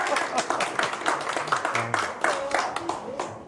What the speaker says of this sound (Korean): 존경하는 우리 강창호 단장님을 우리도 큰 박수로 환영하겠습니다